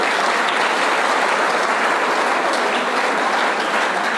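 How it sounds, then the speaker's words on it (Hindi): An audience gives loud, dense applause at a gathering, a steady uninterrupted roar of clapping that holds at full strength throughout. "तो इसलिए जो ये ट्रांसफ़र दीदी ने करा है, उसके लिए एक बार जोरदार तालियां होनी चाहिए।"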